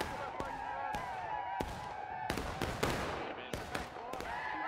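Musket shots crack out unevenly in the War of Rights game, a few separate near and mid-distance reports rather than one volley, sounding over steady battle ambience with voices in the background.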